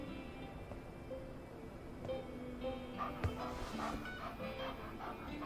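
A puppy in the video game Life is Strange 2 gives a few soft barks and whimpers over a steady ambient game soundscape, fairly close and moderately loud.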